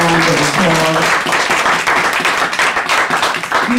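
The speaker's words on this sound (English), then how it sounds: "Give him a big round of applause." An audience gives Mr. Matthews a big round of applause, continuous dense clapping that stays loud for several seconds, with a voice briefly audible at the start.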